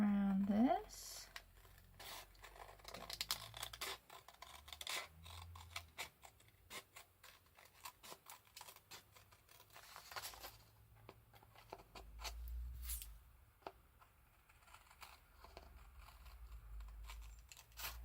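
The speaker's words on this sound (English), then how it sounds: "I'm trying to focus on cutting round." Paper being trimmed with scissors around a piece in a handmade blue journal, giving soft, irregular snips and rustles up close, with brief pauses and low handling noise between cuts.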